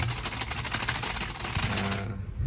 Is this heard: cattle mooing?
no